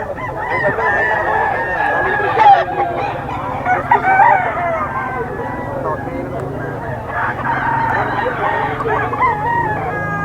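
A young stag rooster crows at a pet market in Bocaue, with a couple of loud, close crows over clucking fowl, background bustle and people talking.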